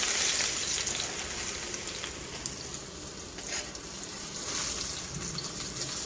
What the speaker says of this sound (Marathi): आपण बोंबील आता तळून घेऊया